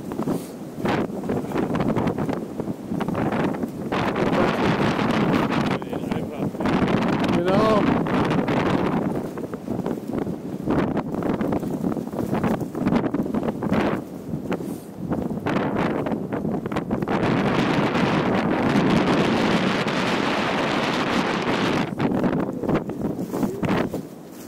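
Strong wind buffets the microphone in the Carpathian Mountains in loud, continuous roaring gusts, with voices faintly audible underneath at times.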